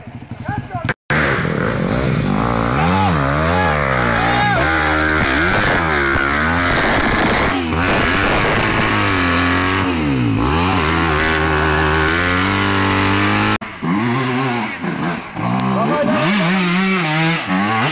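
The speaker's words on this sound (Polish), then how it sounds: "Motory latają." Enduro motorcycles, including a Yamaha YZ250F, rev loudly and repeatedly nearby, their engine pitch rising and falling in sweeping bursts with a brief dropout near the start.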